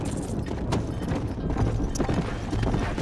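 Horse hooves clip-clopping at a steady walking pace in Red Dead Redemption, close and continuous over ambient game sound, with a few brief snorts.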